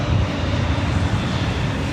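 Delta A321 airliner jet engines roaring at LAX during a takeoff run, a steady, loud, dense rumble with broadband roar that holds constant throughout with no talk.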